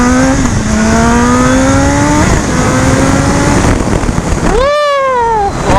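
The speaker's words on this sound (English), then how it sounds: "that is such a smooth accelerating bike, and it gets up to speed just like that" A 2019 BMW S1000RR sport bike in sport mode accelerates hard, its loud engine note rising steadily through the gears with brief dips at each shift, then swelling sharply near the end.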